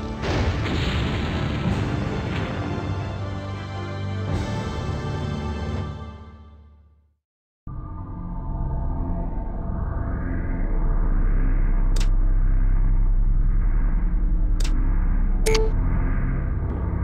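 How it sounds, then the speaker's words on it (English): An enemy vehicle blows up in the MechCommander Gold video game: a heavy, rumbling boom that sustains and fades, then after a brief silence another loud roaring blast with sharp pops and crackles over a continuous low rumble. "Enemy vehicle destroyed."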